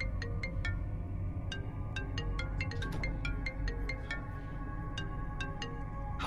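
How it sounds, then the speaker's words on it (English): A phone ringtone rings repeatedly in bursts of bright electronic tones over a steady low hum, somewhat distant as if from upstairs in a house. "phone is ringing upstairs."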